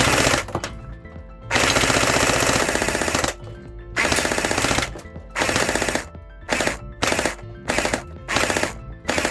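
A fourth-generation P90 electric gel blaster fitted with a tracer unit fires in loud, close bursts of rapid full-auto rattling, one long burst followed by several shorter ones separated by brief pauses.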